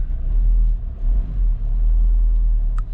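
Car in limp mode being driven after a turbo and engine cleaner treatment, heard from inside as a deep steady engine rumble and road drone with slight dips in level, no talk.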